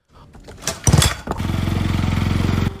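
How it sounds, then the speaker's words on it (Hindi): A motorcycle engine fires up with a rising roar, then settles into a steady, loud pulsing run as the bike pulls away, with no talk over it. "और फिर साहिल अपनी बाइक पर उसे बिठाकर उसकी मंजिल की ओर बढ़ चला।"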